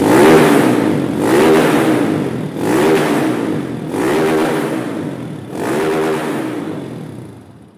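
A Honda Titan 160 motorcycle engine with an 8mm kit and high-flow injector revs hard five times in a row, each burst rising and falling, loud and close with no talking.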